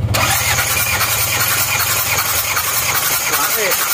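A diesel engine cranks and runs during a cylinder compression test, a steady low rumbling drone holding loud from start to finish, with faint voices underneath.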